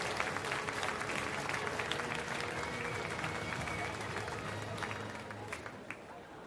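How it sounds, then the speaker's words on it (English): Crowd applause for medalists at a UCI Track World Cup cycling event in Perth, steady distant clapping from a large arena audience with a broad hum of crowd noise underneath. "once again, a round of applause for our medalists, Germany, Australia and Austria."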